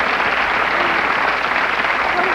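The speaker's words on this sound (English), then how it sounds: "What is the applause for?" A television talk-show studio audience breaks into dense, steady applause that stays loud and close throughout the short burst.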